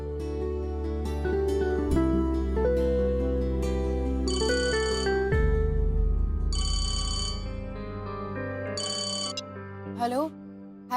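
A mobile phone ringtone plays a bright, repeating melodic tune. Bursts of high electronic chirping recur among the notes, which hold steady for several seconds before the ringing cuts off.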